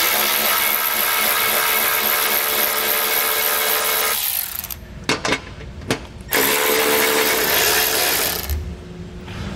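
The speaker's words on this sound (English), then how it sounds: "we'll go ahead and get all of our hardware off" A loud, steady power tool whines as bolts and hardware come off the underbody of a 2022 Ford Explorer, running continuously with a few brief stops before starting up again, close and alone.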